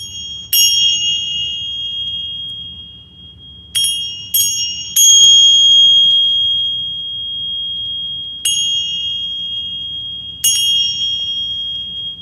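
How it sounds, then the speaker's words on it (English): A high, clear bell is struck several times at uneven intervals, each ring sharp at the onset and then sustaining and slowly decaying, with a faint low hum in the room. "let's work with the bells here"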